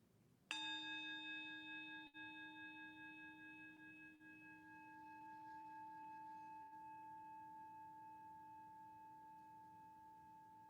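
A single bell-like chime is struck once at the start of a worship service, then rings on as a clear, sustained tone that slowly fades over several seconds in a quiet room.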